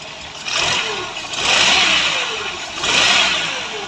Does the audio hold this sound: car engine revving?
yes